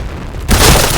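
A grenade going off in a first-person shooter game, one sudden loud booming blast that breaks in halfway and rumbles on to the end.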